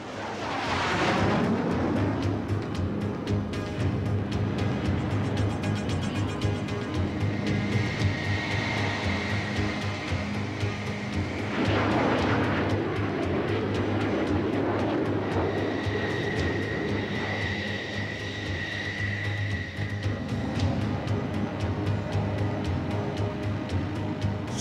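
Military jets launch from an aircraft carrier for a simulated attack exercise on an enemy port, a loud continuous roar of engines that swells and fades as planes pass, alone without talk.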